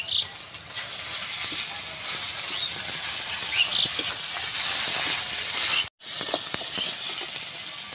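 Chopped tomato and garlic paste sizzle in a pan for homemade chicken biryani, a loud steady crackling hiss with one brief cut-out near the end.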